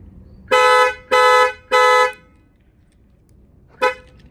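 The horn of a 2008 Ram truck sounds in three quick, loud, evenly spaced honks from its panic-button alarm, then after a pause one shorter final blast, close by and alone.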